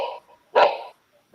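A dog barks in short, loud bursts, a couple of distinct yelps spaced apart with quiet gaps, sounding like playback from a rescue show.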